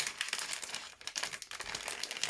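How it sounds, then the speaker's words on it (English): A plastic bag holding a rubber phone case for a Xiaomi Mi A3 is opened, giving a quick, close run of crinkling rustles for a couple of seconds with no speech. "It's a plastic bag with the case itself. It opens up quite simply."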